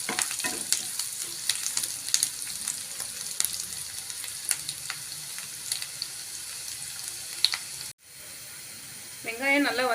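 Onions and curry leaves sauté in a pan for bottle gourd masala, with a continuous close sizzle and scattered crackles and utensil scrapes that cut off sharply near the end. A voice follows after the break.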